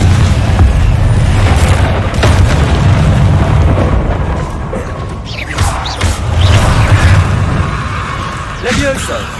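A Confringo fire spell explodes in Hogwarts Legacy combat against goblins. Loud booming blasts and crashes come in bursts over continuous game noise, with a voice calling out during the fight.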